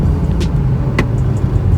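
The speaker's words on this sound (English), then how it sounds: "So what we have here is a perfect traffic jam storm." Road noise from a stopped line of cars in a traffic jam on an overland 4x4 trip to a ferry on Bohol, heard as a steady, close rumble of idling engines with a faint higher hiss.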